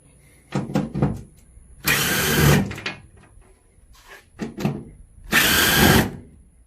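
A power drill backs out cover screws on a third-generation Dodge Ram, with two loud whirring bursts set apart by quieter clicks and short handling noises nearby.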